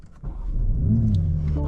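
A 2025 BMW M4 Competition xDrive engine starting up, a short crank followed by a deep, close rumble that swells and settles into a loud idle with a faint voice at the start.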